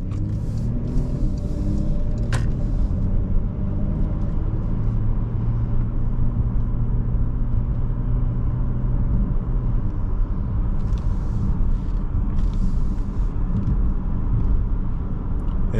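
Porsche Panamera 4 sedan cruising on the road in sport mode over bumps, heard from inside as a steady low engine and tyre rumble with a few light knocks, loud and continuous with no talking.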